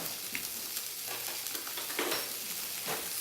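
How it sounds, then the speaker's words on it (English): Butter sizzling in a hot Saladmaster pan with oil and halibut fillet, a dense steady hiss and crackle with a few small pops, heard close and alone. "now I'm just going to put the butter"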